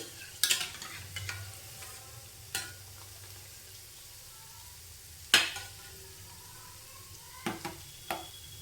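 Jaggery murupi frying in a pan, with a faint steady sizzle running throughout and a few sharp scrapes and taps as the pieces are stirred and turned.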